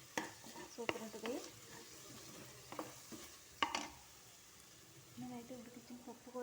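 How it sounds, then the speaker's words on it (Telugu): Boiled lentils are stirred into beetroot frying in a pan for Telugu beetroot pappu, giving soft sizzling and scraping stirs with a few sharp clinks, all fairly quiet and close, with someone talking over the cooking. "నేనైతే ఉడికించిన పప్పు కూడా వేసేసుకుంటున్నాను."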